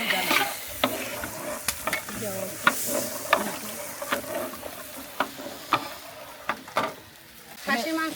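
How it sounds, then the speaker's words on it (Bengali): Boiled chickpea dal is stirred and sautéed in spiced masala: a soft sizzle runs under repeated scraping and clinking strikes of a spoon against the pan, irregular and close. "বুটের ডালটা দিয়ে এখন এটা কষিয়ে নেব।"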